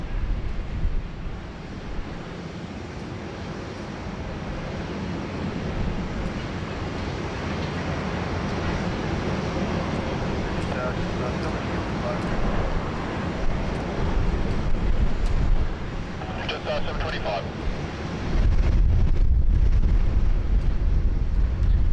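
A Qatar Airways Boeing 777-300ER departing Sydney Airport for Dallas Fort Worth gives a broad, steady jet roar that builds slowly and swells into a heavy low rumble near the end.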